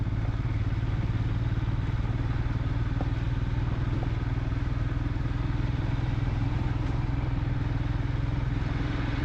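A motorcycle on a road tour from Kolkata to Jhargram hums along at steady speed, its engine drone and rushing road and wind noise constant and close throughout, with no talking.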